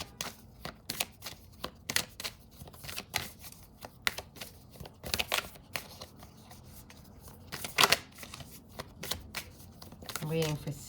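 Oracle deck cards shuffled during a tarot reading, with rapid riffling and flicking bursts continuing over several seconds, close and crisp, ending in a more muffled handling sound.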